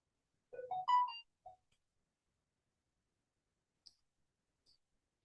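A few quick mouse clicks during an online meeting, a small cluster of soft taps followed by a couple of faint isolated clicks, close and alone with no talking.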